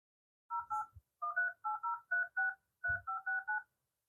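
An iPhone 14 Pro dialing a Telkomsel number: a quick run of about a dozen short, clean keypad tones in small groups with brief pauses, quiet with a few soft taps between them.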